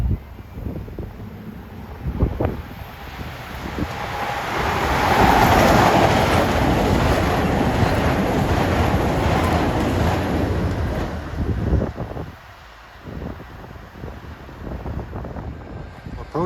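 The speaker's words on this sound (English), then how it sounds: "This is a short train." A short westbound commuter train passes Mamaroneck station during the evening rush, a rising wind-buffeted rumble that swells to a steady loud roar, then drops away, with scattered clunks.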